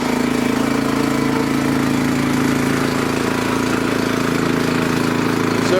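A Honda snowblower engine runs at a steady idle, a loud, continuous mechanical drone with a constant hum and no pauses.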